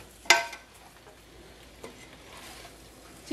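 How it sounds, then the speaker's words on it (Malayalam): A spoon stirring roasted onion masala in a pan, with a sharp scrape at the start, then soft sizzling and a few lighter scrapes. "ഇനിയും ഒന്നുകൂടെ നന്നായിട്ടൊന്ന് ഇളക്കി ഫ്ലെയിം ഓഫ് ആക്കാം"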